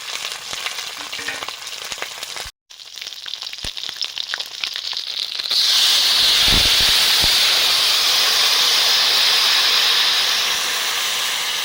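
Small puti fish hit hot oil with dried red chillies and five-spice, breaking into a loud, continuous close-up frying hiss and crackle that swells after a brief gap and holds steady to the end.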